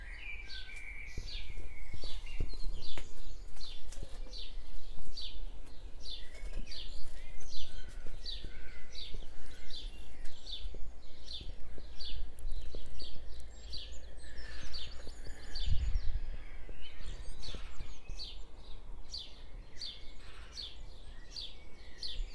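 Dense dawn chorus of many songbirds gathered around a rowan tree, overlapping chirps and trills repeating steadily from various distances, with no talking over it.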